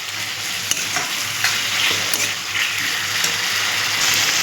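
Fish fries in a pan of hot oil with a loud, constant crackling sizzle and occasional sharp pops, with no voices.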